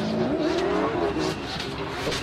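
BMW 1 Series race car lapping the Croix-en-Ternois circuit, its engine holding a loud, steady note that rises slightly in pitch as it drives past.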